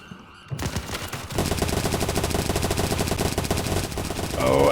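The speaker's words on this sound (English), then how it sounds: "Space getting shot from both in front and from the left will be taken out" Video game gunfire during a competitive match: sustained rapid automatic fire and overlapping shots, loud and continuous for several seconds.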